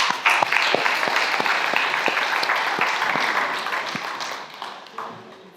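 An audience applauds a guest, Marc Conan, at a magazine launch event in Paris. The even, steady clapping goes on for several seconds, with a few sharper claps, before fading at the end.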